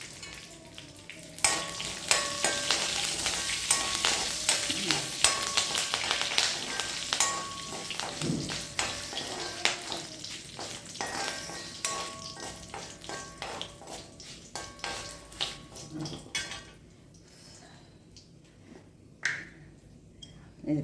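Curry leaves dropped into hot oil while making Kerala inji theeyal with ginger, a busy crackling sizzle that steadily fades and settles, with occasional stirring clinks and pops.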